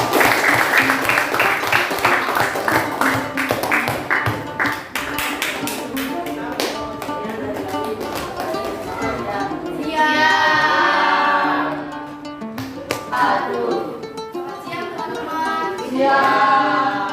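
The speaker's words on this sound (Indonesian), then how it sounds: "silakan beri tepuk tangan untuk kelompok ini" Classroom of students applauding a presenting group: a burst of rhythmic clapping at the start, followed by talking with scattered taps and claps further on.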